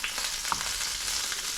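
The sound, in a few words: courgettes frying in a pan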